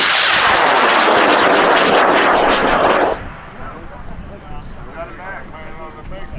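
A scratch-built 2.7 pound high-power model rocket lifts off on an Aerotech H100 motor with a loud, roaring burn for about three seconds, then it cuts off, leaving quieter outdoor background noise at a launch event.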